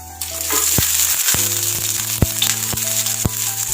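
Mustard seeds spluttering in hot oil on a low flame for a spinach sambar tempering, with sharp popping crackles at irregular intervals over a steady sizzle, close and fairly loud, no voices.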